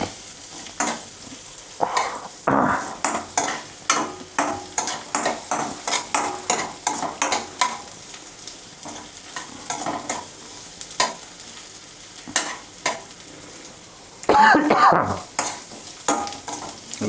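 Garlic roasting crisp in a hot pan while being stirred, made for a poha chivda: a steady frying sizzle under repeated scraping stir strokes, with a louder burst of sizzling and clatter near the end.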